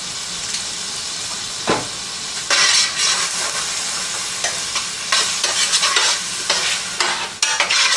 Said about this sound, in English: that is really starting to sear